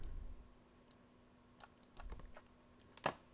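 Scattered, faint keystrokes on a computer keyboard while code is typed, a few soft clicks spaced irregularly, ending in a sharper tap, in a quiet room.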